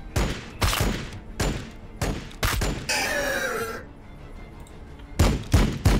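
Sharp gunfire bursts from the video game Warhammer 40k Battle Sector, several loud separate volleys with a short whistling streak between them, close and punchy.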